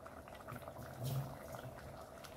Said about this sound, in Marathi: हे बघा खूपच छान मस्तपैकी आमटीला उकळी आली आहे